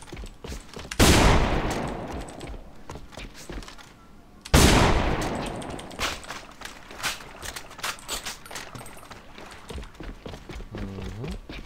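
DSR-1 Dreamcatcher sniper rifle fired at concrete in the shooter game AVA: two loud, sharp shots with ringing decay, several seconds apart, followed by quieter clicks and mechanical rattles.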